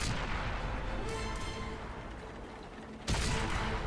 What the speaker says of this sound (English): Gotta keep moving, because I don't want to get hit by artillery.